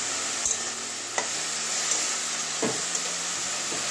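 A spiced cabbage filling with coriander powder and turmeric is mixed in a pan for paratha, a steady sizzle punctuated by a few sharp spatula scrapes and taps.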